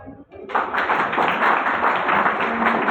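Students clapping in a classroom, a sudden burst of many hands that starts after a brief pause and holds as a loud, dense, steady patter to the end.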